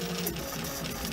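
A kit-built, average-size 3D printer prints a banjo part, giving off a faint continuous mechanical whir with small stepping shifts, quiet and steady throughout.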